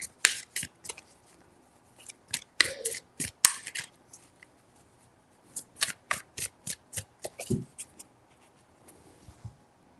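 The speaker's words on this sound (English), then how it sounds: "Three shuffles." Crisp riffling bursts of tarot cards being shuffled, close up, in two quick runs of rapid flicks separated by a short pause.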